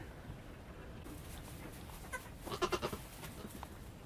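A goat gives a short, faint bleat against a quiet outdoor background, heard once from some distance.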